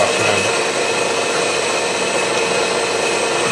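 A milling machine with a 3/4 slot drill takes a steady clean-up pass along the inner face of a metal wood chipper blade, giving a loud, continuous, even cutting hiss and whine with no talk.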